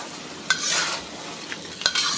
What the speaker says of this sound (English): So just give the ingredients a final stir fry there.